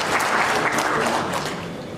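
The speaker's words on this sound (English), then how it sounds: "I think a good clap for that" An audience at a university alumni gathering breaks into sustained applause, dense clapping that is loud at first and gradually eases off.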